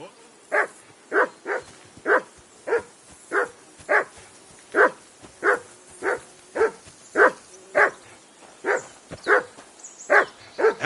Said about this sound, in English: Whistle at that mutt of yours to stop barking!